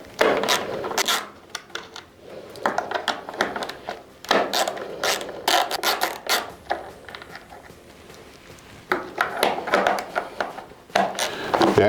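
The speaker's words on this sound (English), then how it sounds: "we're going to use our 8mm socket to remove the 4 bolts holding it on." An 8mm socket ratchet backs bolts out of the rear fender on a KTM Duke, producing close, rapid bursts of sharp clicking with short pauses between strokes.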